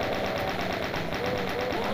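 Rapid automatic gunfire from chaingunners in the Doom video game, a fast, even rattle of shots that continues without pause at fairly close range.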